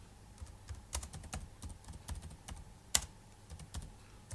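Keys clack on a computer keyboard as an error message is typed, an irregular run of light, close taps with one sharper keystroke near the end, in a quiet room.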